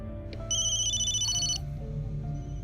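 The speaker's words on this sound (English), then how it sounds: "Colonel Ostankovich is on the phone." A telephone rings in a puzzle video game, a loud electronic trill lasting about a second over a steady low background drone.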